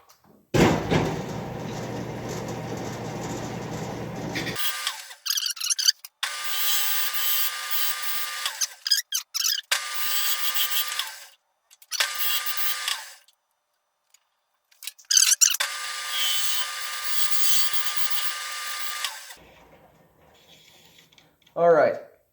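A wood lathe with a skew chisel shapes the soundboard platform of a turkey call, giving several separate bursts of bright, close cutting and scraping noise with short silent gaps between passes.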